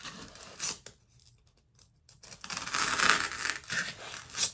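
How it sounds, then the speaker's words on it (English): Rough, rasping sawing strokes of a serrated knife cutting through foam for a faux hot chocolate mug craft, a short burst, a pause, then longer louder cutting. "I just typically will just use my serrated knife."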